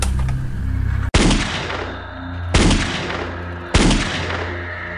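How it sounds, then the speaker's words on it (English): Shotgun fire in a drama trailer, three loud, close blasts spaced over a few seconds, each with a sharp crack and a decaying rumble, following a dense noisy stretch. "I was planning on using my shotgun."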